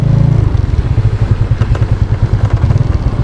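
A motorcycle engine idling close up, its rapid pulsing putter loud and steady throughout.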